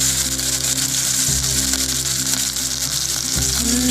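Onions, ginger and garlic frying in hot oil for a lentil curry, a constant loud sizzle over a low mechanical hum, with a couple of dull thumps from the pan.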